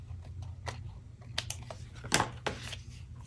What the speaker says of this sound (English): I'm just going to use my scissors because it's faster.